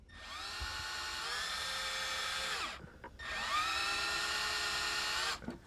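An electric drill bores into an SR20DE engine's oil pan for an oil line tap, two close, high-pitched whining bursts of a few seconds each, separated by a short pause.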